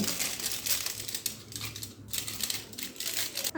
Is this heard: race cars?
no